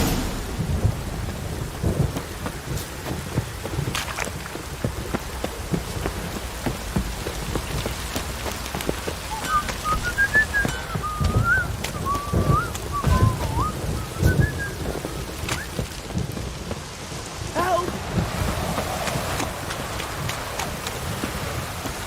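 Steady rain pours over a surface with rolling thunder in a Witcher 3: Wild Hunt game scene, a continuous dense wash throughout, with deep rumbles swelling underneath and a faint whistling tone midway.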